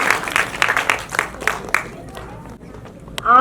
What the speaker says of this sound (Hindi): जोरदार तालियां गगन जी व बच्चों के लिए